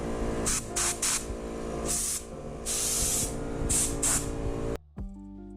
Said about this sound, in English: I'm using compressed air to clean off the frame before I apply a finish